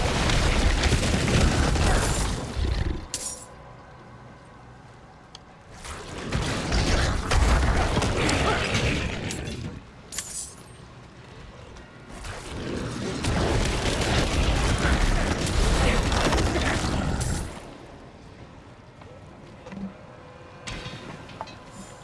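Explosions from Necromancer abilities in a video game, with area-of-effect blasts going off constantly: loud, dense booming bursts arrive in three long waves separated by quieter gaps, with no talk over them.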